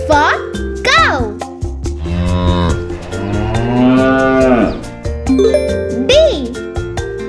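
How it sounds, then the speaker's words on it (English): A cow moos several times in long, loud, drawn-out calls, mixed with bright chiming tones and a voice in a playful alphabet song for kids. "C is for cow."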